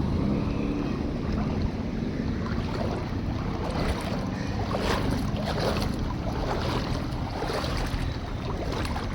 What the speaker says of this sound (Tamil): சொலண்டு அடிக்குது தண்ணி.